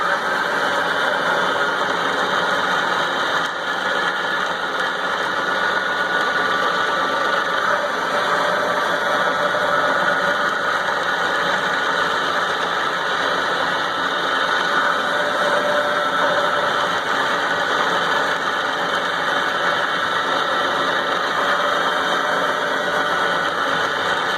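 A Moore #3 jig borer machines a part and chatters slightly, producing a loud, steady mechanical hum and whine that holds constant throughout with no voices.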